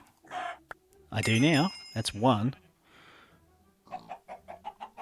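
Chickens in Minecraft, modded FTB Regrowth, cluck in short bursts, with a series of quick clucks near the end, alternating with someone talking close by.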